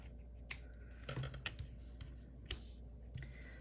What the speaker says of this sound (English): I'm just gonna cut that off.